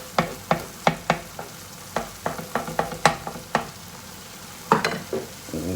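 Three eggs cooking in spiced masala in a pan for an Afghani breakfast: a low, steady sizzle under a series of sharp spatula taps and scrapes in an uneven rhythm, with no talking.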